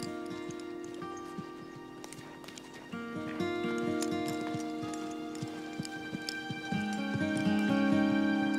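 Two trained horses walk with an unhurried clip-clop of hooves over sustained background tones and music-like ambience, the steps holding an even pace and building slightly louder toward the end.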